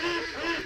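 A single duck out in the dark while the rest of the poultry flock stays shut in, giving a short, loud, continuous honking, nasal quack with no talk over it.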